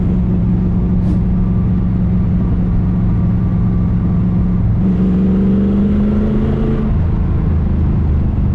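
An engine with several carburetors that are not all working runs loud and close with a steady drone, then rises briefly in a rev around the middle before settling again.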